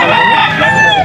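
An 11-month-old stag gamecock at a sale in Angeles, Pampanga, lets out one loud, close crow of about a second.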